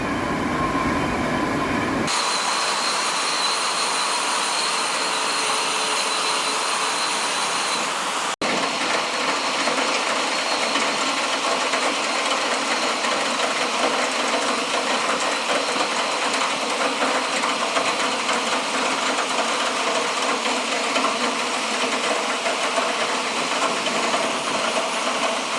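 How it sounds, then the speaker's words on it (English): An electric winch running at a dam on the river at Tribes Hill, New York, moving a dam section into place, heard as a continuous loud mechanical rumble and grinding drone with a brief clunk early on, steady throughout. "there goes the electric winch moving over"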